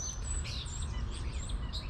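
Small birds chirping outdoors in the morning: continuous high, quick tweets over a low, steady background rumble.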